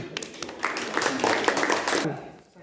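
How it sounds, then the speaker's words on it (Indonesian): A physics class applauds a student presentation group, scattered claps that build into a brief burst of applause lasting under two seconds, moderately quiet with a voice speaking at the start. "Oke, tepuk tangan buat kelompok ini."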